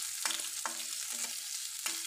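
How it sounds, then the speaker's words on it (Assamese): Chopped onions fry in a pan, a soft steady sizzle broken by four spaced spatula scrapes and taps against the pan, fairly quiet with no voices. "পিঁয়াজখিনি এতিয়া অলপ মই ৰঙচুৱাকৈ ভাজি ল'ম।"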